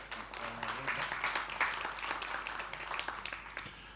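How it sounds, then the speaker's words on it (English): Audience applause greets a chief executive walking on stage at a conference plenary, a steady, fairly quiet wash of many hands clapping that holds for about four seconds, with faint voices underneath. "Let's give him a round of applause."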